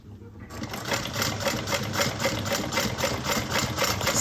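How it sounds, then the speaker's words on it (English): A sewing machine topstitches a fabric bucket bag one-eighth inch from the edge, a steady, close, fast-running mechanical whir with rapid needle clatter, heard alone without pause. "we're going to get this top stitch 1/8 of an inch, leaving long tails at the top."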